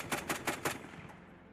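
Grenades detonate in the video game Halo 3 as four quick, evenly spaced muffled pops, fairly faint, then a fading tail with no talking.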